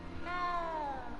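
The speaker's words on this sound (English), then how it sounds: "You don't need to be frightened, little cat." A cat meows once in a Hogwarts video game, a single drawn-out, slightly falling cry, clear and close over a soft background hum.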